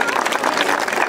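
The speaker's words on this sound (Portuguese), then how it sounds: "para eles também peço uma salva de palmas" A school's solemn academic-year opening session, with the audience applauding in a short, continuous burst of many hands clapping at once.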